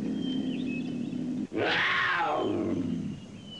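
A cougar's deep growling roar from an animal encyclopedia video game, one loud drawn-out snarl after a short pause, rising then fading over a constant ambient background.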